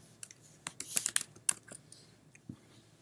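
Keystrokes on a computer keyboard while editing text, heard as a short irregular burst of light clicks in the middle, fairly faint against a quiet room.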